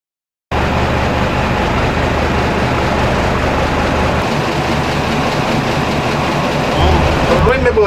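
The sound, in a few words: German Jung locomotive running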